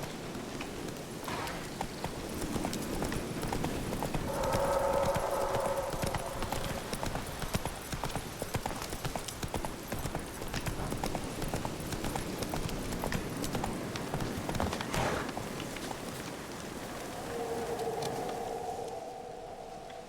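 Hoofbeats of the horse Roach galloping in The Witcher 3, a fast continuous clip-clop rhythm running under ambient game music and wind, steady and fairly close, with brief tonal swells.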